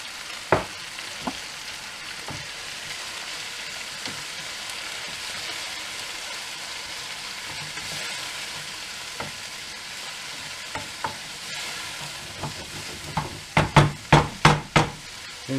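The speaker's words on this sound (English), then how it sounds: "I'm adding some of the passata I made, but a jar of bolognese sauce would do just as well." Bolognese mince frying in a pan gives a steady low sizzle with occasional spoon knocks, then a burst of several sharp clanks and scrapes near the end as passata is added and stirred in.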